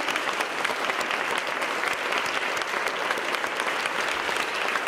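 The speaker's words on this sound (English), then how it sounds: "can we give her a real quick round of applause?" A storytelling-event audience gives a loud, dense round of applause, steady and sustained for about five seconds with a faint murmur of voices underneath.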